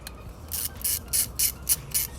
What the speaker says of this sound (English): using the 10mm socket, we're going to remove these 4 bolts